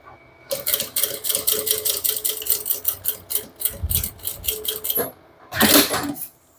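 A sewing machine stitches a bag zipper, backstitching at the start and finish: fast, loud, rhythmic needle chatter in steady bursts, a brief pause, then another short run of stitching.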